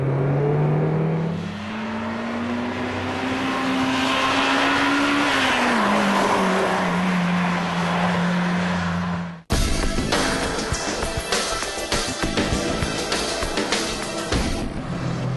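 Honda VTEC engine revving hard, a rising wail that climbs and then drops back, followed by a sudden cut to a rough, gritty engine roar, loud and close throughout with no talking.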